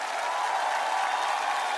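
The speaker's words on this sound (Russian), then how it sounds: "Вячеслав Макаров, ваши аплодисменты." Steady applause from a television talent-show audience for a senior contestant, moderately distant and continuous for the short span, with a light hum of the crowd beneath.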